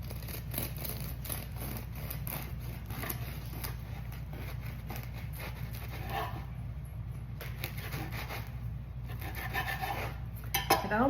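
A knife slices through a loaf of apple cinnamon swirl sourdough bread with a steady, soft rasping and scraping that continues throughout, close and fairly quiet.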